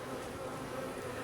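Honeybees swarm over the frames of an open hive during an inspection, giving a steady, dense buzzing hum close by with no pauses.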